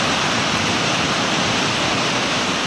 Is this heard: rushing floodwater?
yes